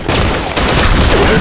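Gunfire on the Lost Temple map of a shooting video game, a loud dense burst of rapid shots with a brief gap before it resumes, close and harsh throughout.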